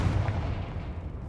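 A Confringo fire spell is cast in Hogwarts Legacy, a dense, continuous burst of booming, crackling blasts with heavy low rumble that stays loud for the whole moment and fades slightly toward the end.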